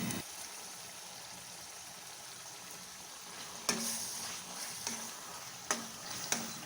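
Chicken and masala sautéing for a Chettinad chicken gravy, a steady soft sizzle broken by several sharp scraping stirs of the spoon against the pan, close and moderately quiet, no talking.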